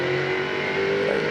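Touring race cars from the 2001 Shell Championship Series race at Phillip Island, a steady loud engine drone with a sustained high whine, close and unbroken with no pauses.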